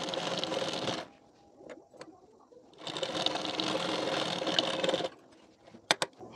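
Sewing machine stitching the belt piece of a collar-neck katori blouse, running in two sustained bursts of rapid, even needle chatter with a short pause between and a few small clicks afterward.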